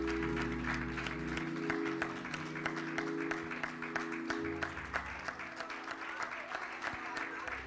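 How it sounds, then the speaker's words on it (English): A church congregation claps in a fast, steady beat over a sustained backing of music and voices, with the clapping even and moderately loud throughout. "Come on, let's clap our hands."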